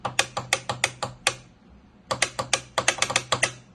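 A Thrustmaster T248 racing wheel clicks loudly and sharply in two quick bursts of rapid, evenly spaced mechanical clicks, separated by a short pause, with no voices.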